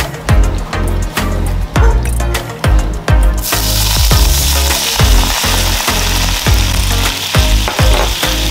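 Onions frying in a pan for a stuffed bell pepper dish give a loud, steady sizzle, broken by repeated sharp knocks and scrapes of stirring that land every half second or so.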